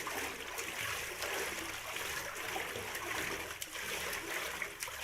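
Someone swimming makes a steady wash of splashing, churning water at close range, continuous for several seconds with no voices.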